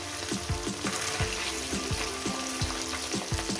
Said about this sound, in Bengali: মাছের এক সাইডগুলো হয়ে গেছে অপর সাইডটা উঠিয়ে দেবো